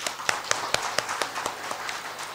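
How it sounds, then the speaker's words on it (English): Applause at an international conference, a brief round of steady, evenly spaced claps that sound close and moderately loud. "let's all give a big round of applause once again"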